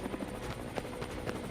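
Helicopter rotor thumping steadily through a continuous whirring drone in a game scene, with no voices over it.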